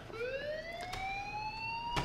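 Inside the Life is Strange video game, a fire alarm wails as a single rising siren tone sweeping upward, fairly quiet and steady, with a couple of faint clicks and brief thumps behind it.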